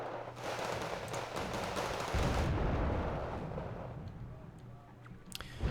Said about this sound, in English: we'll go ahead and just keep calling in bombers.